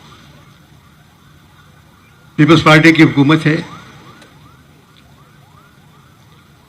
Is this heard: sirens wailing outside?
yes